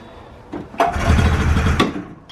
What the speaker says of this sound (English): Just try pull starting it as it is.